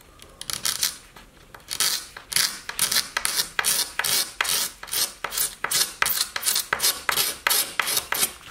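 A piece of glass scrapes old lacquer off cedar-veneered furniture in quick, steady strokes, a close, dry rasping scratch repeated about twice a second throughout.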